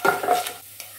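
Dried red chillies, curry leaves, chana dal, cumin and crushed garlic frying in hot oil for okra vendakka thoran, a brief close sizzle with a stirring scrape that fades within a second.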